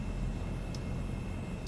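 An APU generator runs on a Transall C-160 in the video game MSFS 2024, a steady broad mechanical hum and rumble with a faint constant whine and two brief faint clicks.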